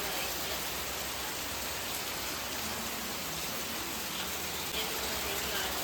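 Steady heavy rain falling at night, a thick continuous wash of drops hitting surfaces nearby, constant in level and heard alone without talk.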